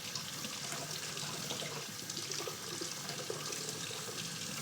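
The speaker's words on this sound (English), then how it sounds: "How good is the sink sound?" Tap water runs steadily into a kitchen sink, a continuous broad splashing rush close to the ear with no talking over it.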